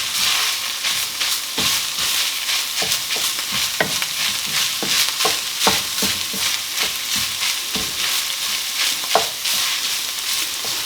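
Onions, garlic and herbs stirred in a frying pan while making lasagne, with a steady sizzle and repeated scraping strokes of a utensil across the pan, close and continuous.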